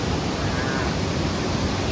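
Kinnaree waterfall in Bueng Kan, a steady broadband rush of falling water, loud and continuous with no pauses, filling the whole moment.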